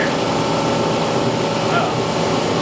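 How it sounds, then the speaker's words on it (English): Air leaks from a car tire on a V8-swapped BMW E36 drift car as a steady, loud, unbroken hiss that stays even throughout. "My tire's hissing."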